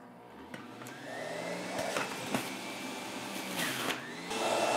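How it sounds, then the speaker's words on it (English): An electric juicer whirs steadily while apples are fed through it, a continuous motor whine with brief grinding surges, close and moderately loud, no talking. "I'm going to continue juicing."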